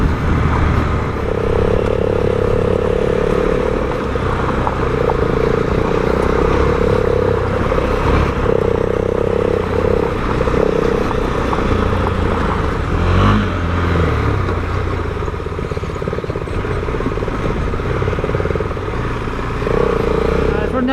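A KTM 390 Adventure motorcycle runs fast on a dirt track, its engine droning loud and steady with wind rush and a brief rise in revs partway through.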